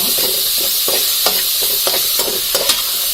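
Washed rice and moong dal stirred in hot oil for Tamil ven pongal: a steady close sizzle of frying with repeated scraping stir strokes roughly every half second, no talking.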